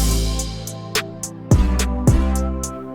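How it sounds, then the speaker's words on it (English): Brass hits and deep 808 bass samples in an FL Studio beat, punchy stabs landing over booming low sub hits and a rhythmic high tick, fairly loud with no voice. "we're going to add some brass hits and 808s."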